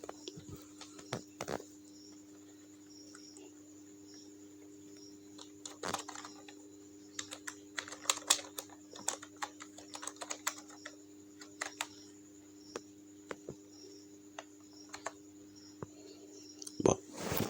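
Scattered computer keyboard keystrokes, quiet and irregular, with clusters of clicks and louder key presses over a low background hum.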